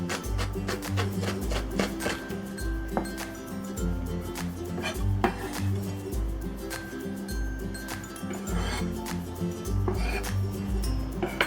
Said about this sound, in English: For the prep, I'm going to begin with mincing the green onion.